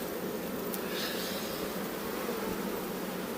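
Honey bees hum steadily around a brood frame lifted from a hive in spring, a dense, even buzz close by with no talking.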